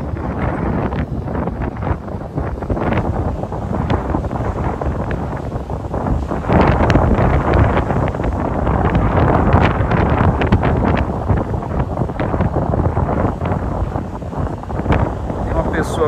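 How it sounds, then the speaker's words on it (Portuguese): Strong wind gusting across a beach at Ponta Negra in Natal during sand replenishment works, loud steady buffeting roar across the mic for the whole stretch, with faint voices underneath. "tem muito vento"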